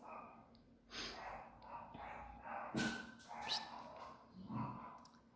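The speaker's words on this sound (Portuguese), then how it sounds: "Não é pra latir, Totó." A dog gives a few soft, huffy barks and snorts at close range, with breathy sounds between them.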